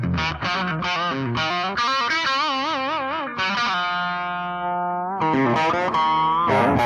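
Heavy distorted electric guitar riff with a huge fat tone soaked in reverb, sustained bends and vibrato notes ringing out loud and continuous, with a brief dip before the final chords.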